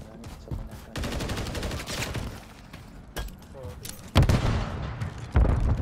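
Rapid gunfire in a Modern Warfare 3 ranked match crackles in dense bursts, with a loud volley near the start and heavier booming shots toward the end, while a voice talks over part of it.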